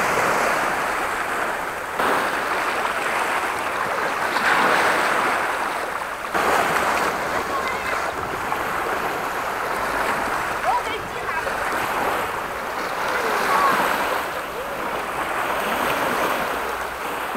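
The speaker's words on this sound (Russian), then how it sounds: "Море, ребята, Красное море, прекрасное Красное море" Waves of the Red Sea wash onto the shore in a steady, continuous surf wash with swelling peaks, heard near with wind buffeting the microphone.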